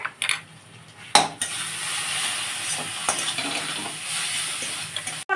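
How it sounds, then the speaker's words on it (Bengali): Spice masala with cumin and coriander powder and salt sizzles and fries in a pan for an okra yogurt curry, with a spoon stirring and scraping against the metal and a couple of sharp clinks. "আচ্ছা আমি এবার মশলাটা কষবো"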